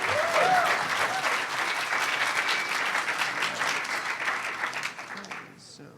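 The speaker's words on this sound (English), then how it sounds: "Give him a round of applause." Audience applause for a speaker at the HOPE Number Nine lightning talks, dense continuous clapping from a crowd with faint voices underneath, holding steady then tapering off near the end.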